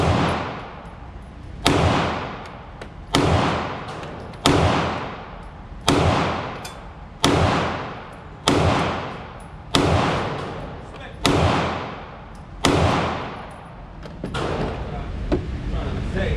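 Glock 19X pistol fired in a slow, evenly spaced series of about nine loud, sharp shots, each followed by a brief decaying echo.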